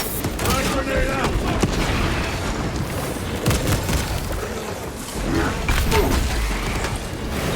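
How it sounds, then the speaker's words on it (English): Amid constant battle noise in Warhammer 40k: Space Marine 2, a frag grenade goes off with a heavy boom. Dense gunfire, mechanical clatter and a voice fill the scene around it. "Frag grenade out."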